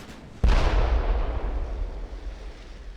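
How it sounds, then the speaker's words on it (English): Battleship main guns fire a shell in a naval combat game, one heavy boom landing half a second in and followed by a long, rumbling decay, with no talk. "And there go my last shells, indeed."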